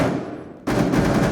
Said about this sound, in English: More gunshots coming out from Charlie onto Vogue